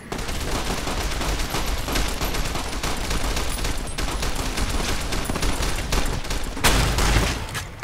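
Rapid bursts of gunfire fill a firefight in the video game Fallout New Vegas, a dense, loud volley of overlapping shots running throughout with a sharp blast near the end.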